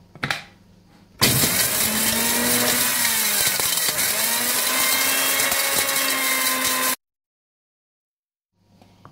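Mixer grinder whirring loudly and steadily for about six seconds as it grinds whole cardamom pods and cloves into masala powder, starting abruptly and cutting off sharply, with brief quiet before and after.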